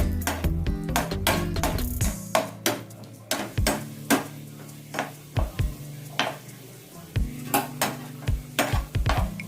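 Cashews and raisins fry in a pan with a soft sizzle, while a utensil repeatedly scrapes and taps against the metal in an uneven rhythm, close by and with no talking.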